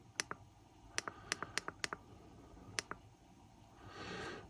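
Button on a Costco hybrid 5000-lumen flashlight clicked repeatedly, sharp close clicks in pairs and quick runs, with a soft rustle toward the end in a quiet room.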